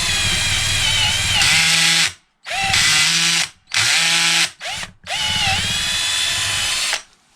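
Topshak TS-ED3 20V cordless electric drill boring a large hole, its motor whining loudly in several bursts separated by brief pauses, close up and with no talk over it.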